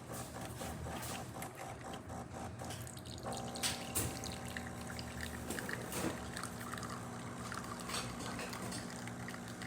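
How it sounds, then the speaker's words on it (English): A DeLonghi espresso machine pulls a shot of espresso, its pump giving a steady droning hum with a watery trickle and drips layered over it, running continuously at a fairly close distance without any speech. "Now we can do a shot of espresso."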